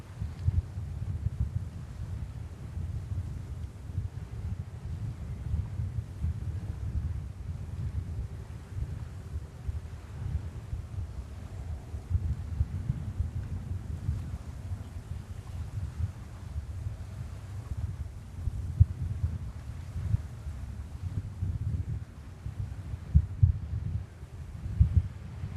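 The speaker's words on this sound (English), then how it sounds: "And now the wind has picked up severely." Strong wind buffeting the microphone at New York's JFK Airport, a continuous low rumble and throbbing roar that holds steady for the whole stretch with no talking.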